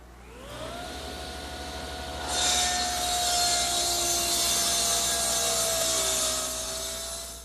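A table saw rips leftover wood scraps to width for rocking horse cross pieces: the motor spins up, then a steady, loud whining cut runs several seconds before winding down.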